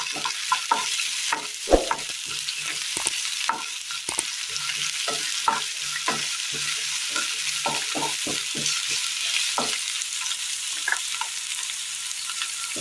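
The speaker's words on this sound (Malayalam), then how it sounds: "കടുക് പൊട്ടിയതിന് ശേഷം ഇതിലേക്ക് ചെറിയുള്ളി അരിഞ്ഞത് നമുക്ക് ഇട്ട് കൊടുക്കാം" Chopped shallots fry in hot oil after spluttering mustard seeds, giving a steady close sizzle broken by frequent sharp pops and the clicks of a stirring spoon throughout, with no talking.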